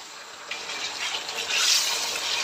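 Chicken dropped into a pan of frying onion, garlic, ginger and whole spices, heard as a steady broad hiss and sizzle that swells louder midway.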